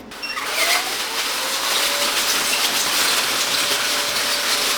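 URSA D1 air pillow machine starting up, heard as a sudden onset of loud, steady, close airy hissing and whooshing that holds constant, with a faint rising whine early on.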